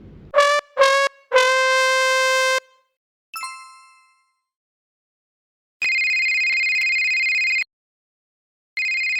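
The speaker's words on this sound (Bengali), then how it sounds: "কতক্ষণ ধরে মায়েরা ফোন বাজতেছে" In a cartoon, a phone's electronic ringtone sounds in bursts: a few short tonal beeps, a chime, then a long sustained ring that cuts off and starts again, loud and alone.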